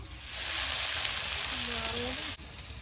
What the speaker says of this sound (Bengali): রসুনটা তেলে দিয়ে দেবো